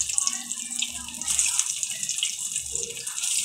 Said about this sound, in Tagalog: Grabe man pitik ng mantika na to.